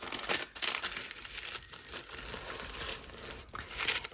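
Thin vintage onion skin paper being handled and folded, a close, soft crinkling and rustling that runs continuously with a few sharper crackles.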